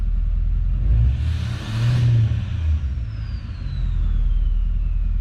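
A truck engine revs hard twice nearby, its deep exhaust roar swelling and easing between bursts, then settling into a rumbling idle.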